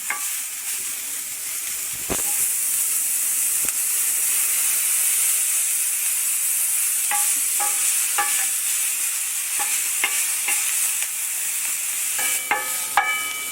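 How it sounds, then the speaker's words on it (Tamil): Onions frying lightly in a pan for an omelette, a steady close sizzle with occasional metallic clinks and scrapes of a spoon stirring. "கொஞ்சம் கருக விடாமல் லைட்டாக ஃப்ரை பண்ணிக்கலாம்"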